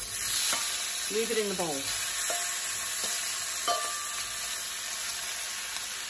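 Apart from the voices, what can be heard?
tofu sizzling and being stirred in a pan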